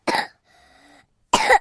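A child coughs in a cold-medicine advert: one sharp, close cough, a short pause with a faint tonal hum, then a second harsher, throaty cough burst.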